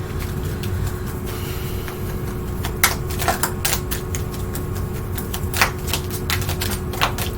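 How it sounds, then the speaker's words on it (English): A deck of oracle cards is side shuffled at close range, giving a steady papery riffle with sharper card snaps bursting through in the second half. No one speaks. "Side shuffle."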